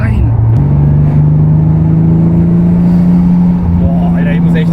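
A Toyota Supra engine revving hard as turbo boost climbs, a loud sustained droning tone rising slightly in pitch inside the cabin, with someone talking over it.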